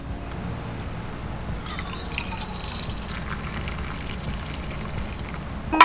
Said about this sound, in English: a Chemex pour over glass carafe